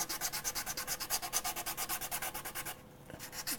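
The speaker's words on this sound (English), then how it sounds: "sanding with wet sandpaper makes it so much easier" Wet sandpaper rubbed by fingertip over a 3D-printed part gives a fast, steady rhythmic rasp of back-and-forth strokes, loud and close, with a short pause near the end before scrubbing resumes.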